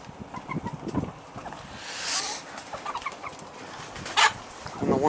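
Chickens cluck in short bursts nearby, with scattered bird calls and rustling in the background.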